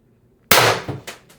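A Beeman BP50 air pistol fires on high-pressure air with a single sharp, loud crack, followed by a short metallic rattle and a couple of fainter clicks as the echo dies away.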